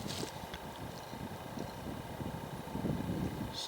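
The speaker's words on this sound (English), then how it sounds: "It's kind of windy, so it's blowing my stuff all over." Wind buffets the microphone outdoors, a steady low rumble and rushing roar throughout with gusts swelling near the end.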